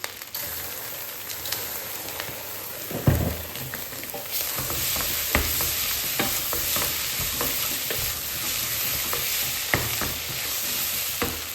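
Egg fried rice with soy sauce being stir-fried in a pot rather than a wok, a steady crackling sizzle with repeated scraping stirs and one heavier clatter early on, close and fairly loud throughout.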